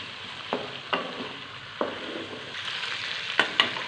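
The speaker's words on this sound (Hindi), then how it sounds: "हमारा गोश्त ये फ्राई होने वाला है" Chicken meat fries for a turnip curry with a steady background sizzle and several distinct scraping stirs against the pan, fairly close and moderately quiet, with no talking.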